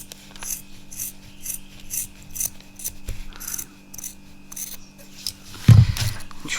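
Small scissors snip and trim loose thread on a handmade Halloween keyring, a run of light, close clicks and rubbing sounds followed by a sharper cut and a short louder handling thump near the end.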